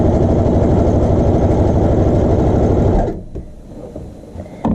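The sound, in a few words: sewing machine sewing child shorts hem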